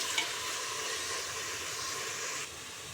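Chopped onions fry in oil in a pan alongside whole spices for a chicken gravy, a soft, even sizzle that holds steady for a few seconds, faint and close, with no voices.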